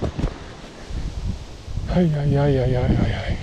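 Gusty wind rumbles against the microphone in a garden plot with rustling in the background, and a person starts talking partway through.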